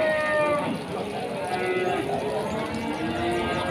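Cattle low and moo over a dense, noisy crowd of livestock at a cattle market in Jaken, Pati, with several animals calling at once.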